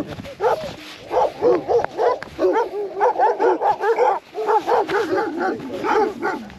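Several shepherd's dogs at a mountain sheepfold on a Romanian trail bark loudly and repeatedly close by, overlapping yelps and woofs in an uneven rapid rhythm with no talk.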